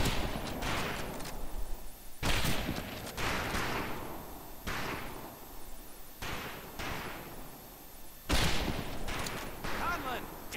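Scoped rifle gunshots at a long-range target during boot camp in Medal of Honor Pacific Assault: several loud, sharp reports with echoing tails, spaced a second or two apart, with a voice talking in between.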